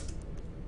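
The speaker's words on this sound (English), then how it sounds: "So what I'll do here is I'll type fun inspirational maybe." A few quick keystrokes tap on a computer keyboard, faint and close, over a low background hum.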